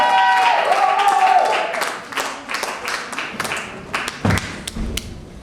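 Audience applause at a slam poetry competition as a performer is called to the stage, with dense clapping at first, then thinning into scattered, irregular claps and thuds.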